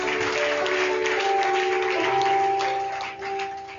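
A church congregation applauding and cheering during a service, a loud continuous wash of clapping with steady tones from instruments or voices underneath.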